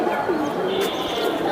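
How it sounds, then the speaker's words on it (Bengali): Black-necked pigeons at a pigeon seller's loft coo steadily in low, rolling tones, a close and continuous murmur over a busy background. "এই যে কালো গলা কবুতরগুলো আমি দেখাই দিই"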